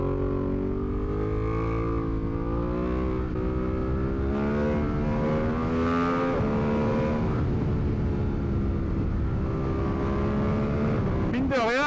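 A Ducati V2 motorcycle engine revs high toward 12,000 rpm, a loud sustained rising and falling whine with harmonic drone, heard up close from the rider's position while people talk alongside.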